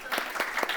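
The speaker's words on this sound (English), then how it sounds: "I think that deserves another round of applause." An audience claps at a fireside chat talk event, a brief burst of steady applause from a modest crowd in a room.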